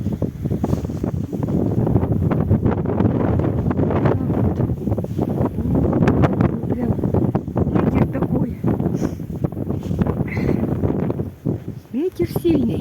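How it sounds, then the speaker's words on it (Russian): Strong wind during a night snowstorm roars and buffets the microphone in loud, continuous gusts, while a person speaks over it. "Ветер сильный. Ой, шум будет."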